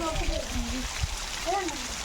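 Water flowing at the Paladhara stream near Srisailam makes a steady broadband rush that runs beneath a person talking throughout.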